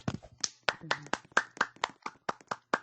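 Rhythmic hand clapping in a loose beat of roughly a dozen sharp claps, close and fairly loud, mixed with a little background voice.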